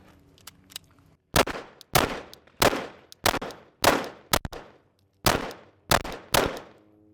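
A Glock pistol fitted with a red dot sight firing a string of shots at a range, about nine sharp, booming reports in irregular pairs and singles, each with a quick decaying echo, loud and close.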